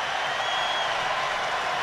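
A hockey arena crowd applauds and cheers for Henrik Sedin's 1000th NHL point, with a steady, dense wash of clapping throughout.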